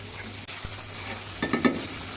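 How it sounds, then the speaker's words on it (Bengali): Potatoes sautéed and stirred in a hot pan give a steady sizzle, with a burst of louder scraping and crackling toward the end as they are moved around. "আলুটা দিয়ে অনেক ভালো করে কষাতে হবে, তো অনেক সময় নিয়ে কষাবো।"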